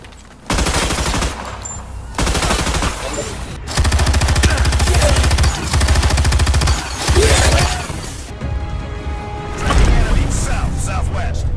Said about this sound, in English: When firing the human assault rifle, it just sounds like a pellet gun, not an M4 carbine.